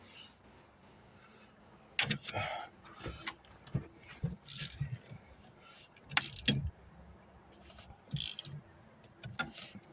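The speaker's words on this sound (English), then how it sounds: "let me get my steering wheel puller" A steering wheel puller is tightened on a 2003 Honda Civic Si with a ratchet, producing quiet, irregular metallic clicks and short bursts of ratcheting, fairly close, with no voices.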